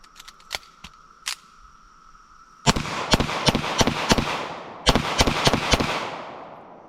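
A Kimber 1911 Next Generation pistol fires 124 grain rounds in two quick strings of sharp, loud reports, preceded by a few small clicks and metallic handling sounds.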